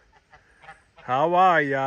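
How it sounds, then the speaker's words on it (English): A person briefly greets someone, then a goose lets out one loud, drawn-out honk close by in a garden. "all the geese came to check out what's going on in the garden"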